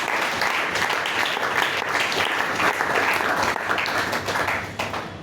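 A church congregation at a Thursday service bursts into loud, sustained applause and acclaim, dense clapping that holds steady before tapering off at the end.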